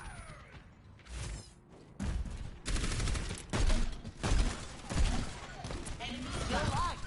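Gunfire from players shooting at the payload in a competitive video game match, coming as repeated dense bursts and clustered shots over a steady game mix, with no voices over it.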